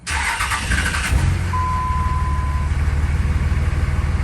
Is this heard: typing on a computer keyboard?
no